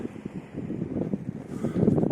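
Gusty wind buffeting outdoors at a city beach by a dam in Yakutsk, a low rumbling roar that swells and eases without letting up.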